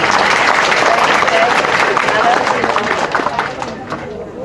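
Audience applauding a guest's mother, the mother of a singer, at a religious gathering with Cak Nun; dense steady clapping from a large crowd that fades slightly toward the end, with murmuring mixed in.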